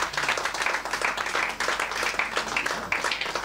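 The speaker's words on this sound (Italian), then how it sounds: "Facciamo un grosso applauso a Cristiano Marteddu." Crowd applause for a futsal award winner at an awards event: steady, moderately loud clapping from many hands continues alone throughout, with no talk over it.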